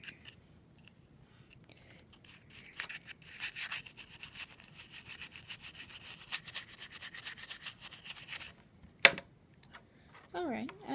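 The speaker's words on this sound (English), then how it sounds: "I'll take a stiffer brush" A stiff brush scrubs weathering powder onto a model boxcar in a run of quick, dry, rasping strokes, fairly close and soft, followed by a short sharp knock and a brief voice.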